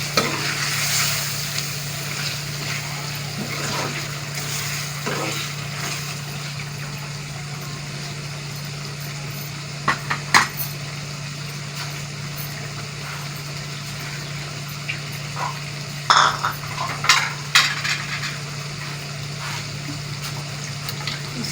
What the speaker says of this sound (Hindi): और गोश्त को मिक्स करते जाएंगे चम्मच की मदद से इसको, और इसकी अच्छे तरीके से भुनाई करेंगे।